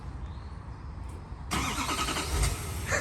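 After a quiet stretch, a stock truck engine cold starts, cranking and roaring to life, settling into a loud, rough idle.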